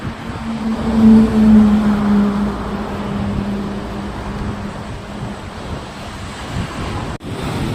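Surf rolls onto a black volcanic sand beach in French Polynesia, a steady broad wash of breaking waves mixed with wind buffeting the microphone, continuous and fairly loud throughout.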